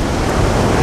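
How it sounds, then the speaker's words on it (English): Water gushing up through gaping cracks in the ground during the Kobe earthquake, a dense, steady roaring rush that fills the whole brief moment. "A flood of water spurts up through gaping cracks in the ground."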